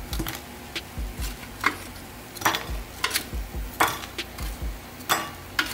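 Crispy air-fried lemon pepper chicken wings being handled, a run of separate crunchy taps and knocks with clinks of tongs or a tray, close up and without talk.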